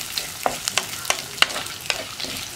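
Onions sautéing in a pan for a mung bean and drumstick leaf curry crackle steadily, with a string of quick scraping stirs and clicks of the spoon repeating roughly every half second, close and clear.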